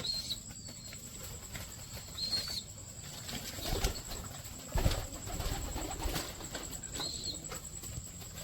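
Pigeons at a new loft flap their wings in bursts as they take flight, the flutters rising over a soft background of cooing and faint chirps, with no talk.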